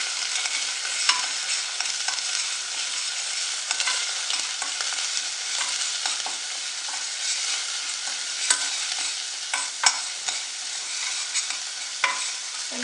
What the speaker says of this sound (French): Je commence à ajouter mes épices. Et je mélange le tout.